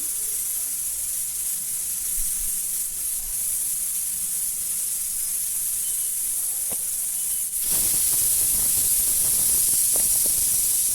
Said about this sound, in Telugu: ఒక విజిల్ వచ్చింది కదా, ఇప్పుడు గ్యాస్ ఆఫ్ చేయండి.